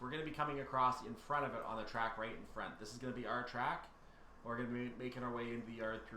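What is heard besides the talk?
No distinct noise like a dog, phone or traffic.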